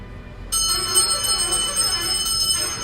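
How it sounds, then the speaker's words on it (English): A bell rings steadily with bright, high metallic tones during a live trading session, starting abruptly and sustaining without pause, moderately loud over low background noise. "that's the bell."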